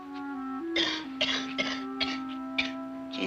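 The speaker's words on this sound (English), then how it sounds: "She's been coughing like that ever since last night." A woman coughs repeatedly in short bursts over a steady tonal background hum, close and moderately loud, with no talk.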